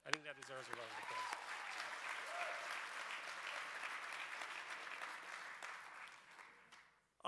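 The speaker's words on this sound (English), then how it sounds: "I think that deserves a round of applause." Audience applause breaks out after a voice finishes speaking, a steady, moderately dense clapping that holds evenly for several seconds before cutting off, fairly quiet overall.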